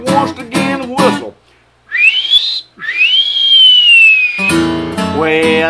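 A person with a brand-new set of false teeth whistles two long, clear held tones, one rising and one gently falling, set between stretches of sung melody.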